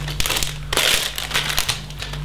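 A plastic bag of LEGO parts is handled and opened, giving loud, close, continuous crinkling and rustling in irregular bursts with no talk over it.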